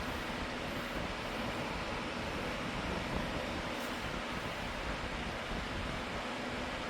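Blowing air from a Lasko S18902 18-inch Cyclone stand fan makes a steady, broad rushing noise with low rumbling buffeting against the microphone, constant and unbroken throughout.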